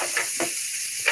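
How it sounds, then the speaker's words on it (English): Food sizzles in a pan during live cooking, a steady close hiss with small pops and crackles over about a second, no talking. "that sizzle is real, Veronica"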